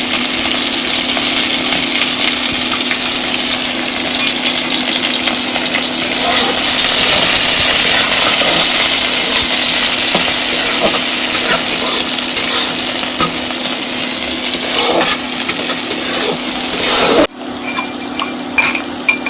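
Onions frying in a pan for a village-style mutton dish, a steady loud sizzle with occasional stirring and light clinks of a utensil, continuing throughout before dropping slightly near the end.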